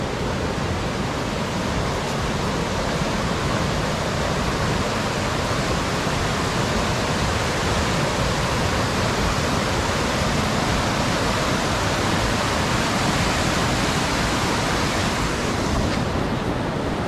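A river in Coorg flowing, heard as a dense, unbroken roar of rushing water, loud and close and steady from start to finish.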